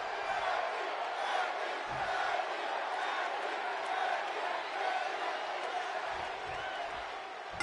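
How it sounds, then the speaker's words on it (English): A capacity arena crowd in the WWE 2K wrestling video game roars steadily throughout, a dense continuous wash of cheering with no distinct pauses. "this capacity crowd is ready to see Becky Lynch in action"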